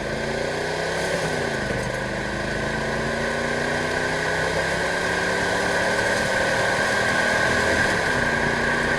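A one-owner 1988 Chevrolet Monte Carlo SS with a 305 V8 and 45K miles drones continuously under throttle, its engine note shifting slightly in pitch as it pulls, heard steadily from inside the car.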